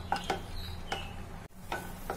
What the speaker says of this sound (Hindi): अब काटी हुई काजू इसी तरह से हल्का से फ्राई कर लेंगे